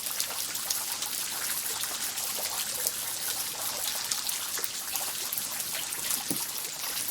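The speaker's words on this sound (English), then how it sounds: "It is raining today." Steady rain falls outdoors on a morning walk with a pet capuchin monkey, a dense, continuous patter and trickle of drops close by with no talk.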